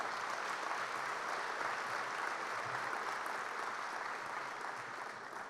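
Sustained audience applause at a state gathering, a dense, even wash of clapping heard from within the crowd and holding steady to the end.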